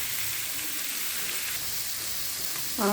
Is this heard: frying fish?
yes